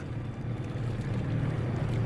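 A video game boat engine in Kona 2: Brume drones steadily at a constant low pitch, with a faint wash of wind or water and no voices.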